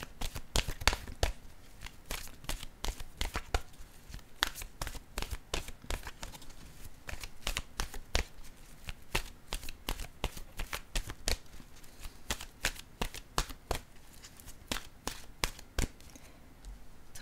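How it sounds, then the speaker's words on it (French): Oracle cards are shuffled by hand before one is drawn, giving close, repeated crisp riffles and flicks in irregular bursts, with no talk. "je vais piger une carte de mon oracle de l'âme intuitive"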